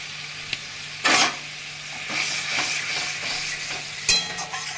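Chhana dalna masala with kasuri methi being stir-fried in a pan, with a soft continuous sizzle and a few louder scraping stirs near the start and end.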